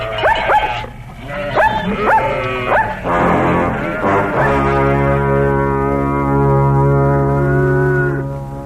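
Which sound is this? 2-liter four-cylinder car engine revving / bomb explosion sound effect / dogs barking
dogs barking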